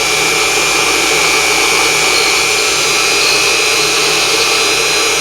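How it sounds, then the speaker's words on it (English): Unimat SL1000 mini lathe turning at 1100 RPM while machining rebar: a constant, loud, dense mechanical whine and hiss that keeps going without a break and with no voices. "we've never machined any rebar at 1100 RPMs"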